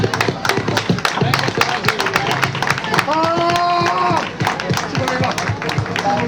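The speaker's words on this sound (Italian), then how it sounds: "Vogliamo un grande applauso, così!" An audience applauds at a 2007 event in Albignasego, with steady, loud clapping and cheering throughout and a sustained tone sounding midway.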